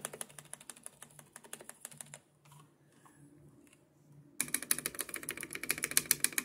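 Typing on a costly custom mechanical keyboard, with a run of close, crisp key clacks that pauses into near quiet before a louder, denser burst of rapid keystrokes.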